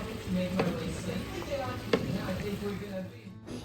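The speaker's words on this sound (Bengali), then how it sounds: "আর এই চিকেনগুলোকে দিয়ে দেবো। এবার এটা মিক্স করতে হবে।" Chicken pieces stirred into a sizzling ginger-garlic spice mix in a home kitchen pan, with a steady frying hiss and a couple of sharp scraping knocks from the spoon. Someone speaks over the cooking.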